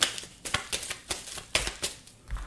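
Tarot cards shuffled by hand for a reading make a run of brisk, crisp riffling bursts in an uneven rhythm, close and fairly quiet, with no talking.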